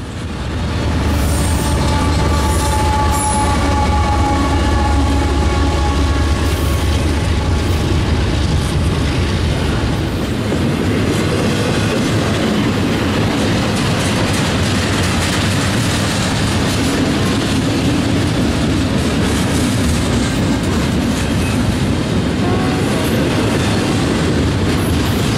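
An eastbound intermodal freight train rolls past at night, a CSX CS44AH working mid-train as a distributed power unit among cars loaded with Walmart containers. It sounds loud and close, with a steady roar, rumble and clickety-clack of wheels and occasional wheel squeal throughout, without talk.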